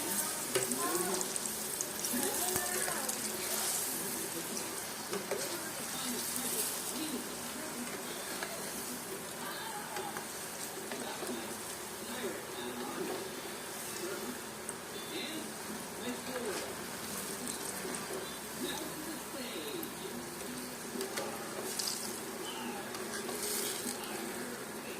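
Bananas and sugar frying in a pan for banana cue, a soft continuous sizzle with scraping and stirring noises running throughout, while a person talks over it.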